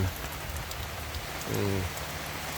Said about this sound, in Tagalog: Niyaga ulan.